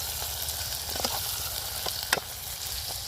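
Tomatoes, green chillies, garlic and onion frying in a pan for a fish curry, a steady close sizzle with a few faint scrapes and clicks of stirring.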